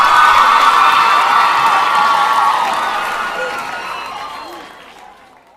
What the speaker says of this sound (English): one last round of applause for the Milton Academy